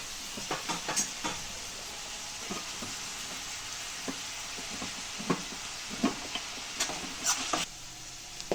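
Ingredients with rock salt and curry leaves sautéed in a pan for carrot fried rice, a steady close frying sizzle broken by repeated scraping and stirring strokes, no talk.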